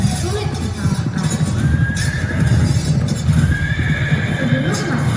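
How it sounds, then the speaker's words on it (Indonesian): Horse sounds played during a class 5 end-of-year school stage performance: a horse whinnies a couple of times over steady, rhythmic clip-clopping hooves, fairly loud and close. "Sejak kecil, Khalid sangat mahir berkuda"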